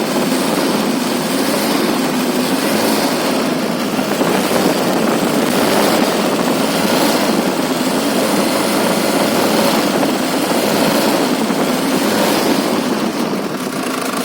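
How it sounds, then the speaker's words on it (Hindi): Toyota Prado engine cooling fan blowing at full strength with its viscous clutch engaged after a silicone oil refill, a loud, steady roaring whoosh over the running engine, continuous with no talk. "अभी क्लच फंक्शन काम कर रहा है और इस वक्त फ़ैन जो है ये फुल ब्लो मार रहा है हवा की"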